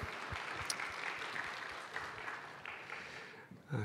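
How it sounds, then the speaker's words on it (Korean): A church congregation at a Sunday worship service in Jeju applauds together, a steady wash of many hands clapping at moderate distance, fading out near the end. "하나님께 영광의 박수 올려드리겠습니다."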